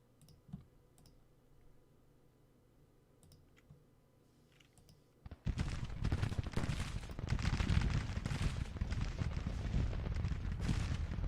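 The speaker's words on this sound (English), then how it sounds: "Our guns are firing." Artillery guns firing in the Civil War strategy game Grand Tactician, a sudden dense barrage of cracks and rumbling booms that starts midway after quiet clicking and keeps rolling loud to the end.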